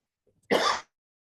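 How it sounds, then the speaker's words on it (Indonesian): A single short, close cough after near silence, ending abruptly. "sebentar, saya batuk dulu tadi ya."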